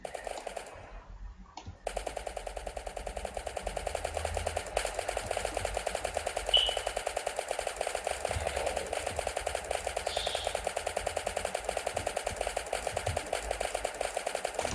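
Gunshots in a Minecraft zombie-survival mod (Crafting Dead), a steady rapid train of sharp clicky shots firing continuously after a short quiet start, with no talk.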